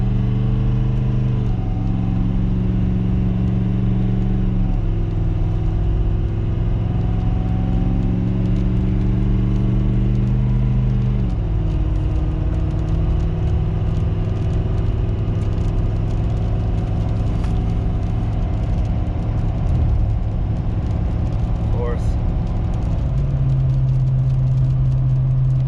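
A Ford Powerstroke diesel truck with its muffler deleted tows a load at half to three-quarter throttle, its loud droning exhaust rising in pitch through gear changes, then settling into a steady cruise hum.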